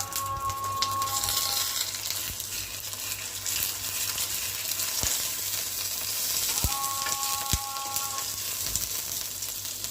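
An egg frying in a pan, with a steady close sizzle throughout, a few sharp ticks and clinks of utensils, and brief tonal beeps partway through; no talking.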